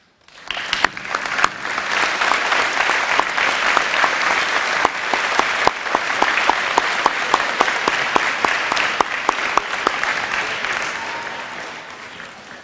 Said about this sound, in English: If you would please stand so we give you a round of applause